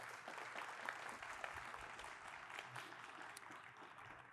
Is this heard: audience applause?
yes